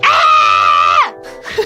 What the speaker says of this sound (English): There's a lot of screaming.